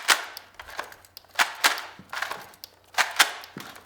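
A series of sharp, light clicks and snaps from a plastic toy gun in irregular bursts, fairly close and quiet, with no talking.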